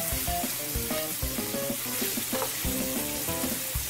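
Ground beef frying with seasonings in a pan gives a steady, close sizzle that runs unbroken through the whole stretch, with no voices.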